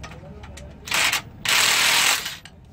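A ratchet loosening a belt tensioner on a Nissan 300ZX gives two fast bursts of metallic clicking close by, one short and one longer, over low background noise.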